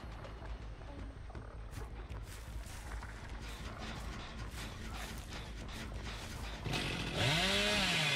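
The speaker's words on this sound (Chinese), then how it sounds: "电锯现在比较好转弯" Chainsaw in the video game Dead by Daylight, a steady revving buzz that runs throughout, with mechanical clatter and a rising whine near the end, and no talking.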